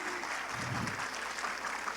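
Warm audience applause at an education expo talk, a steady dense patter of clapping filling the whole stretch at moderate level, with a faint voice briefly underneath.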